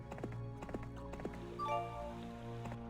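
Horse hooves clip-clop in a steady rhythm of about four or five light hits as a hero rides across the map in Heroes 3 HOTA, set against a constant musical drone, with a short bright chime near the end.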